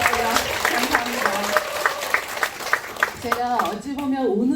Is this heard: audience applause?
yes